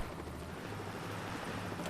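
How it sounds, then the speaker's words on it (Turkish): A helicopter lifts off in the Bus Driver video game, a steady, dense rotor and engine rumble with a low throbbing pulse, holding constant and fairly loud for about two seconds. "helikopter kalkıyor"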